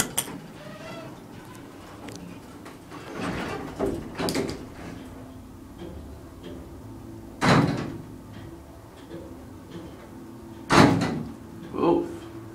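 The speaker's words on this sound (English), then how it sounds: "The door just like slams." A Dover hydraulic elevator door at a Doubletree hotel in Skokie, Illinois slides and thuds shut in several loud, abrupt bangs spread across the span, with a voice talking between them.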